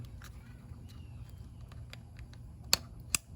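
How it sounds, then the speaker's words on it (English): Two sharp, close clicks a moment apart stand out over a quiet background, a coil pack connector snapping into place on a 2004 Toyota Sienna. "plug it in like that clicking sound"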